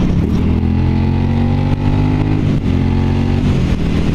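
A rare motorcycle cruises the Pacific Coast Highway on July 4th, its engine close and loud in a constant throaty drone with brief dips between gears.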